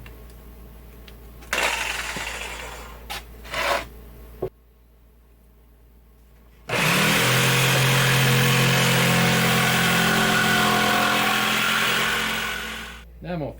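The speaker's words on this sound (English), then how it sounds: "Now I'm going to finish the cut on the bandsaw." A bandsaw cutting out a repair part for a damaged frame: the motor runs, pauses, then starts up again into a loud, steady whine with a sustained cutting roar that tapers off near the end, close and with no speech.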